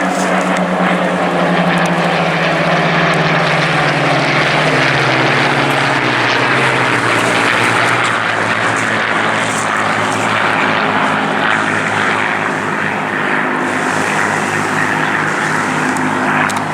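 A pair of Spitfire aircraft engines roars loud and continuous as the planes fly past at the Eastbourne Airshow, a dense propeller drone that slowly shifts in pitch as they pass, with no voices.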